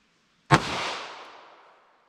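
A single sharp gunshot from a short 3-inch-barrel .38 revolver firing an Underwood heavy round, loud and close, with a long reverberant tail that fades over about a second and a half; no voices.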